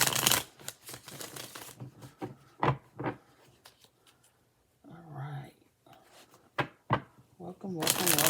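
Tarot cards being riffled and shuffled in quick bursts, with dry flicks and taps close up. Soft speech comes in between the shuffles.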